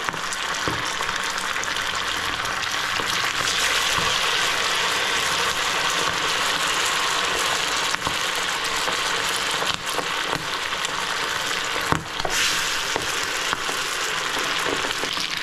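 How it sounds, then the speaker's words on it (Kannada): Chicken garlic kabab pieces frying in oil in a pan, a steady, dense sizzle and crackle close by that holds evenly throughout with a few sharper pops. "ಇದು ಚೆನ್ನಾಗಿ ಇನ್ನನೇ ಫ್ರೈ ಆಡು."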